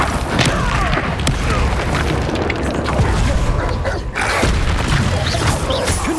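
Confringo fire-blast spell cast in the Hogwarts Legacy video game, heard as loud, continuous booming blasts and crashing impacts layered with combat effects that fill the whole stretch without pause.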